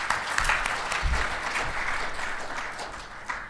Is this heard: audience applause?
yes